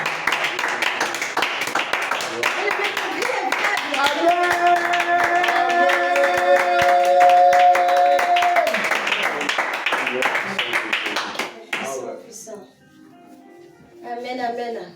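A church congregation at a prayer gathering claps rapidly and cheers loudly for about eleven seconds, with singing and shouting voices mixed in, before the sound drops to quieter talk.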